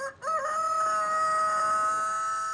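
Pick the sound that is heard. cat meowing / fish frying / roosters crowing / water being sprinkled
roosters crowing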